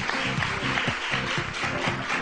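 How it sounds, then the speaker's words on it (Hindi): Studio audience applause on a Pakistani morning television show, a short burst of dense, even clapping at moderate level with faint music underneath. "अरे बहुत सारी तालियां"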